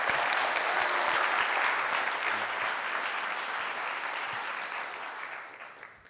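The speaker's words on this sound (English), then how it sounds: "I think they deserve a round of applause." A large conference audience at a design leadership summit claps and cheers in a broad, steady wash of applause that gradually thins out toward the end.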